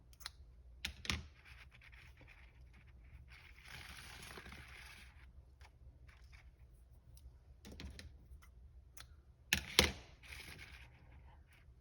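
Paper signatures for a junk journal being cut, with quiet, close scissor snips and paper rustling spaced irregularly, plus a few sharper clicks and handling noises over a low hum, with no talk.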